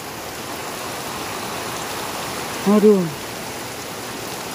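Steady rain pouring in a mountainside village, a constant hiss of water throughout, with a brief exclaiming voice rising over it near the middle.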